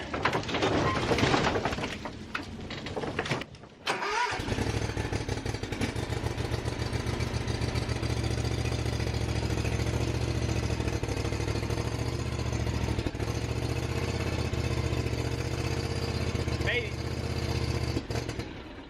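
A riding lawn mower's engine cranks over in cold weather, a steady rapid starter churn that runs on loudly and close for most of the stretch after a brief pause.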